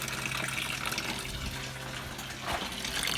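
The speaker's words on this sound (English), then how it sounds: "there's the old coolant, there's the water coming out" Old coolant and water gush in a full stream from a drained radiator on an MK4 Jetta, a steady, close splashing pour with no talking.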